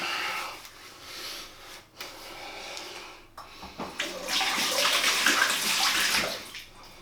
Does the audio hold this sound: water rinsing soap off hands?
yes